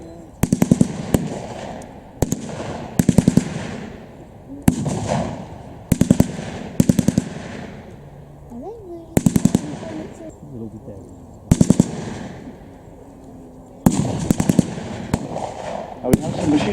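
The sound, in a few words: machine gun fire at WW2 battle re-enactment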